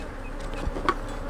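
Honey bees buzzing around a hive that holds a swarm cell transplant in a double split, a low steady hum with a brief louder buzz passing close by.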